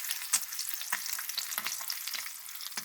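Duck egg frying in a cast iron pan, with soft crackling sizzle and scattered small pops spread across the moment, fairly quiet and close with no talking.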